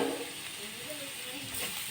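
Soybean chunks and potatoes are stirred in a frying pan, giving a soft, steady sizzle with faint scraping of the stirring utensil.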